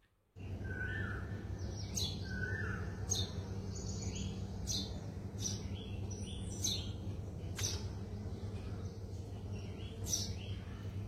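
Sparrows chirp at dawn in short bright bursts scattered across a steady low background hum, several calls close together, moderately near, with no voices.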